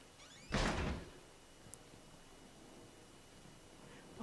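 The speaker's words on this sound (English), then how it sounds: "Why has he got to slam the door?" A heavy door slams once in the horror video game Outlast, a loud close thud with a brief rattle, followed by quiet room tone and a faint tick.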